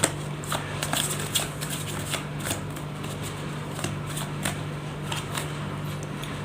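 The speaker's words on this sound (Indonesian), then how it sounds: "Langsung saja saya shuffle kartunya" Tarot cards are shuffled by hand, a close, steady run of crisp riffling flutters and slaps with a low hum beneath and no talking.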